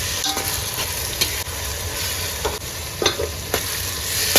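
Eggplant pieces sizzle and fry in hot oil, a steady crackling hiss with occasional scrapes and knocks of stirring utensils against the pan.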